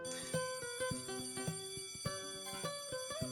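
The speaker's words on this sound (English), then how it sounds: "They are both cut short by the school bell suddenly ringing" A school bell rings in the video game Our Hearts United, a bright repeating chime pattern with steady rhythmic tones running throughout, clear and fairly close.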